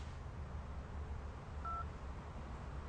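A mobile phone dials a number: a single short keypad tone rings out over a quiet, hissy room background with no talking.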